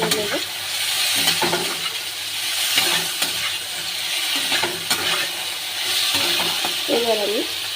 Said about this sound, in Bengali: এবার আমি আলুগুলো একটু ভেজে নেবো হালকা।